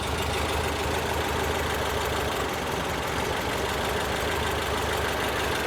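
Air-cooled 1835cc engine in a 1968 VW Type 3 idles slightly low, with a steady, dense, buzzy running noise that stays constant and close throughout, alone without talk.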